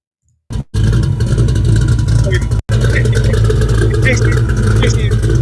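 A Ford V8 engine, a 351-based 393 stroker, rumbles loud and close with a deep, steady revving roar that cuts out briefly mid-run before resuming.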